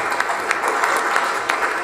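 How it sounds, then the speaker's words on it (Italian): Applause from the audience at the Miss Butterfly 2022 pageant at Baraonda Club, a steady dense clatter of hands with a few sharper claps standing out, fairly close and sustained. "bellissime, un grande applauso"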